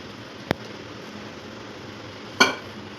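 Fresh chhena for tricolour rasgulla is tipped onto a metal plate, giving two sharp metallic clanks about two seconds apart over quiet room hiss.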